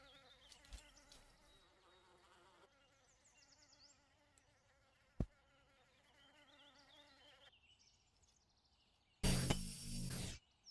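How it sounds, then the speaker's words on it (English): Bees buzzing in the game Starground, a thin, steady insect whine drifting over quiet background tones, broken by a sharp click midway and a loud burst of noise near the end. "Bees go out, they do something,"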